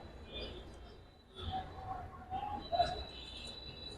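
Soft cooing of a silver male giribaz pigeon in short rounded bursts, fairly faint, over a low background hum with some murmured voices nearby.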